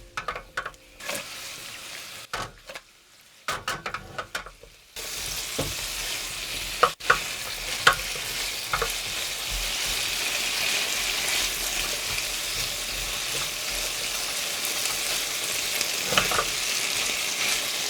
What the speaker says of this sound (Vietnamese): mình lắc chảo cho gà áo sốt nha